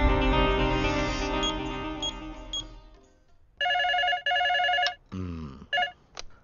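A telephone rings while someone calls their boss: after a fading musical passage, two loud, steady electronic ring bursts sound close up, followed by a few shorter tonal chirps.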